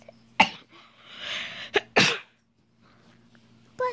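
A person in a classroom sneezes sharply, then again a moment later, with smaller breathy sounds around the two bursts over a faint steady hum.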